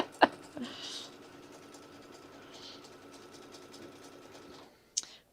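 A sewing machine stitches a quilt block with a steady mechanical whir that holds for about four seconds. Sharp clicks mark the start and the stop, and no one talks over it.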